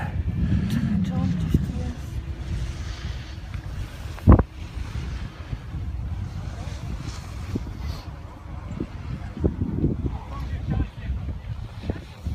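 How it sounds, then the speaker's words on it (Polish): Wind gusts buffeting the microphone at a ski lift in Zieleniec, a steady rumbling roar with one sharp thump partway through, and no clear talk over it. "Troszkę dzisiaj wieje"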